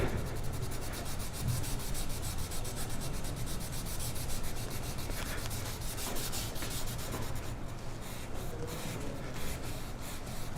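A hand-held abrasive rubs steadily along a square stainless steel tube, raising a brushed finish and blending a weld seam. The dry scratching is continuous and close, with no talk over it.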